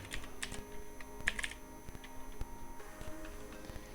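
Keys clatter on a computer keyboard in short, quiet bursts of typing with brief pauses between, close and alone.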